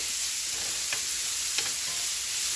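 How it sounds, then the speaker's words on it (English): Vegetables stirred in a frying pan, a steady close sizzle with a few soft scraping strokes of the spoon over about two and a half seconds. "So I'm going to stir these around a bit"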